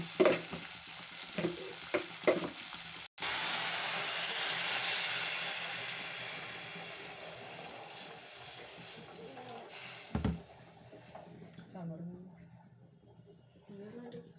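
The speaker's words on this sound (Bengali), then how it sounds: "এটা এখন ফ্রাই হবে, আর এর সাথে কিছু অ্যাড করছে লবণ দিয়ে ভালো করে ফ্রাই করে নিয়ে" Green chilli and onion paste frying with salt in a pan, a loud steady sizzle and hiss with stirring that rises then fades, with a person talking before and after.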